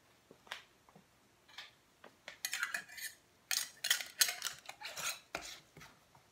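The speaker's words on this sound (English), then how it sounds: "So we're just going to go ahead and put the lids on." Metal lids set onto glass canning jars of pickled jalapeños, a series of quiet scattered clinks and rattling metallic taps that grow busier partway through, close by with no talking.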